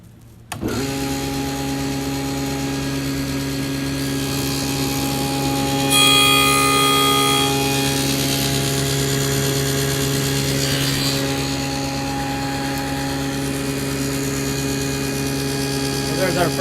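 A table saw spins up loudly and cuts a spline slot across a small mitred wooden box, a sustained high whine with a brief rise in pitch and grit as the blade passes through the wood.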